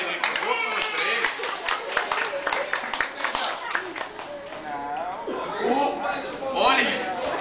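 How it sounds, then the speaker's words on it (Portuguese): Clapping rings out for a man dancing at a hotel in Porto Seguro, with a lively crowd, loud cheers and a voice shouting over the claps throughout. "Palmas pra ele, por favor, palmas pra ele."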